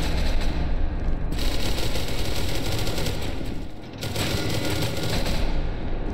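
Rapid automatic gunfire from the video game SCP: Secret Laboratory, set during its Halloween update. It sounds as a dense, loud, continuous stream of shots with a brief dip near the end before the firing resumes.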